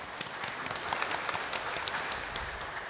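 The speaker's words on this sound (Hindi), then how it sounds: "ताली बजा देंगे।" A cathedral congregation at a Holy Trinity feast Mass applauds to welcome a visiting priest, a soft, moderately distant patter of many hands blended with room reverberation, continuous and even.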